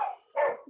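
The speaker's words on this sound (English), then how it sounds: "my dogs are barking" Dogs bark twice in quick succession indoors, sharp and moderately close, heard in a brief burst with no talk over it.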